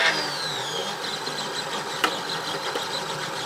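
A Monoprice Mini Delta 3D printer sweeps its head around the edge of the bed before printing, giving a steady, close mechanical motor whir with faint stepper whine and a single brief click partway through.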